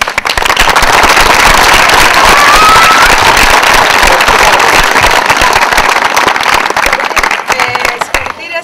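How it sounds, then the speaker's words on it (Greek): A village audience gives loud, dense applause after a community stage performance of a modern Lysistrata in Kyparissi, Grevena, in 2013. The sustained clapping fills the whole stretch, with voices mixed in, and thins out near the end. "Θέλω ένα πάρα πολύ δυνατό χειροκρότημα."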